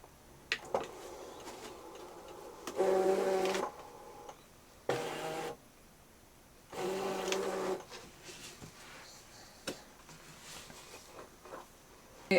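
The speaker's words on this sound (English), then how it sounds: "I'm going to pop my mat in the machine and we'll just press the load button." Brother ScanNCut SDX cutting machine loading a mat, quiet whirring motor bursts of about a second each, separated by soft clicks and pauses.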